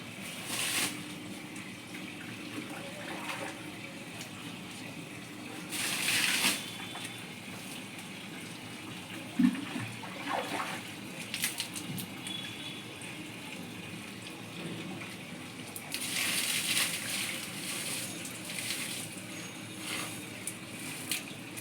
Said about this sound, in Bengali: সমস্ত বাগানে জল দিচ্ছে, গাছগুলোকে স্নান পান করাচ্ছে।